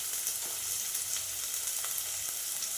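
Onions and garlic frying in a pan for a bottle gourd kara kuzhambu, a steady, hissing sizzle with light intermittent stirring scrapes, close and uninterrupted by speech.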